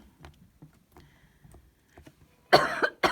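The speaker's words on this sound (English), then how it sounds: "Yeah, I still have this cough." A single harsh cough near the end, loud and close, after a stretch of faint scattered noises.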